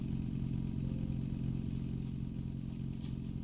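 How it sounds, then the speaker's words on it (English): A vehicle engine in the video game Scrap Mechanic runs at a steady idle, a loud low rumbling drone with a fast rhythmic chug and faint clattering on top, continuous with no talking. "So that's the engine"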